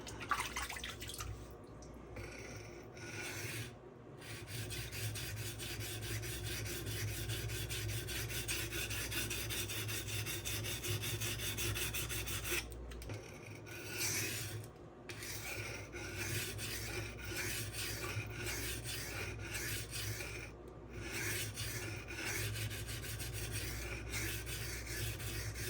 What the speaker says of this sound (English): I'm going to have to basically not only reprofile the bevel, I'm going to have to reshape the whole damn belly and tip